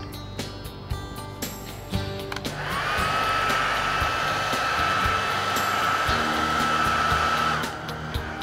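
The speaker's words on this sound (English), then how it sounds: "Dry it again." A hair dryer blasting to dry paint on a model train, roaring steadily up close for several seconds after some clattering handling noises, then cutting off near the end.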